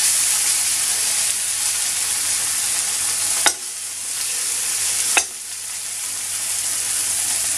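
Beef strips for Peking beef fry in a pan with a loud, continuous close sizzle, broken by two sharp scrapes as a slotted spoon stirs them.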